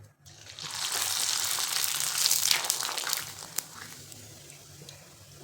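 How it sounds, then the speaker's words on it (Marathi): Thin rava papad frying in hot oil, a steady bubbling sizzle that swells quickly then eases, close and alone with no talking. "पातळ असल्यामुळे लगेच तळले जात आहेत"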